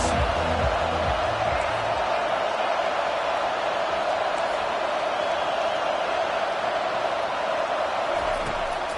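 A stadium crowd at an Oregon vs Arkansas football game roars in a steady, loud wash of cheering and noise that holds without pause from start to finish.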